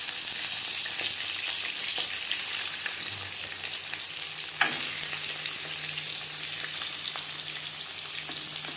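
Eggs fry in oil in a wok for egg curry, a steady close sizzle with occasional scraping stirs and a sharp clatter near the middle, no voices.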